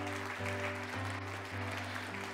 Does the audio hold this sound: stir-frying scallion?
no